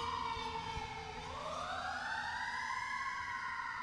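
Fire truck siren passing on a city street, a loud wailing tone that dips and then rises again, echoing off the buildings.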